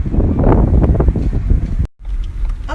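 Strong wind buffeting the microphone at a Pacific Ocean lookout tower, a loud low roaring gust that drops out briefly near the end and then resumes.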